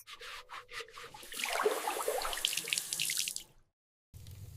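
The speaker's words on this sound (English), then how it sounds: "I'm doing the washing up at the sink." Water runs and splashes at a kitchen sink during washing up, starting with a few drips and then swelling into a steady close gush before cutting off, followed by a low rumble.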